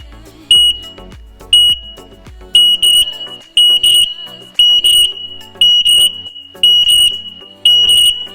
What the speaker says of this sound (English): Press one of the buttons on the alarm and hold it for several seconds until all the other alarms